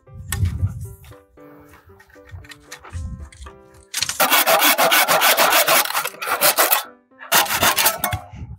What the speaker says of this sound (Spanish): Ahora sí, a seguir cortando los demás.